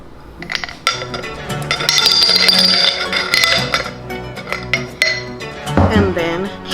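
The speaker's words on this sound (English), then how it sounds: "And then I can add my ice." Ice cubes clatter and clink into a cup while a caramel iced drink is built with chocolate milk and espresso, giving a run of bright, close, busy rattles and knocks that last several seconds.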